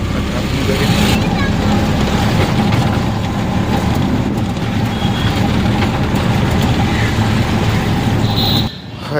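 An auto rickshaw ride on the way home, with a loud continuous engine drone and road rumble throughout that drops off abruptly near the end.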